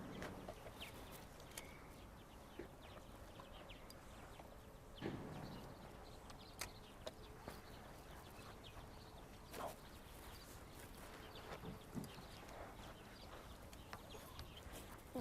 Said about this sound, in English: Sounds like a crow.